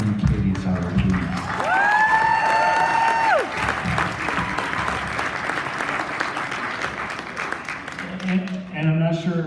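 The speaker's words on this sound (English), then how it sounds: "Give a round of applause to Karen Sadler and Katie Sadler, please." A crowd at a tribute beer social bursts into loud, sustained clapping for Karen and Katie Sadler, with a sharp whistle or cheer cutting through early on and the applause holding strong until voices return at the end.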